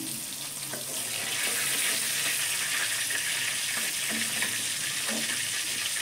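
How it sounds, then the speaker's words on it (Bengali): Cauliflower frying in a kadai, a loud, dense hiss of oil that sounds almost like running water, with a few faint scrapes beneath it. "দেখুন এইভাবে আমি ভেজে নিলাম।"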